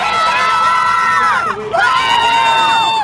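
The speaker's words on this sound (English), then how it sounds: "Angry crowd that accused her of killing the child." An angry crowd shouting in news footage, a dense, loud wall of raised voices and yelling that holds steady throughout, dipping briefly in the middle before surging back.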